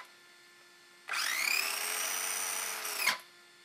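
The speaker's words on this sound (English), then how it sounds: "so we'll just run that motor a bit. Sounds quite good, nice and quiet." The electric motor of a Vaterra Glamis Uno RC car spins up at full throttle in a high, whining drone for about two seconds, then cuts off sharply, heard up close with no talking.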